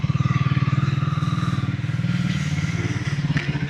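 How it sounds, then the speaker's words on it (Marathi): A Triumph motorcycle engine idles close by as it is brought to a stop for parking, giving a steady, rapid pulsing throb that holds throughout with a slight dip midway. "तर गाडी बाईक इथंच पार्क करतो."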